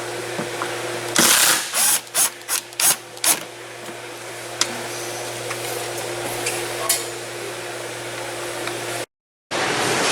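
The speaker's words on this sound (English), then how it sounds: "I'm just gonna remove our screws on the bumper" A power tool drives out bumper screws on a Hyundai Santa Fe raised on a lift, giving several short, loud bursts in quick succession, then a quieter workshop hum with a faint steady tone underneath.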